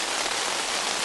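Heavy rain pours steadily in the wilderness, a dense, even hiss of drops hitting surfaces with no pauses or voices.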